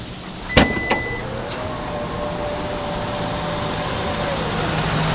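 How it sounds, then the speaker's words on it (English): Power tailgate of a Volvo XC90 SUV opening hands-free, a couple of short clicks followed by a steady, faint electric motor whine that runs for several seconds. "So just wave your foot under the bumper to open it."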